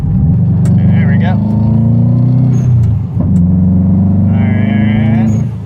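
A Subaru WRX engine revs after a downshift from inside the car, a loud sustained drone that dips briefly and then climbs again, with the tone rising as the revs build.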